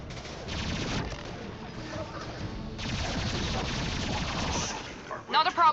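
Sustained gunfire from a Mass Effect 2 battle aboard the Collector Ship, dense bursts rattling on steadily for several seconds with a voice cutting in near the end.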